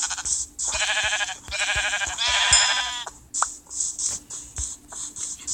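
Several sheep bleat in quick succession, loud wavering cries up close, followed by scattered shorter bleats and soft clicks.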